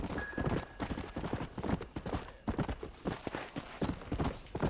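Close, steady clip-clop of horse hooves from the video game Red Dead Redemption, an even trotting rhythm with a faint whinny and some background ambience.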